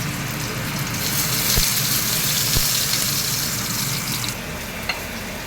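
Garlic and onion sauté in a wok for pork kaldereta, a continuous hissing sizzle with a couple of sharp utensil knocks, the sound easing slightly near the end; no talking.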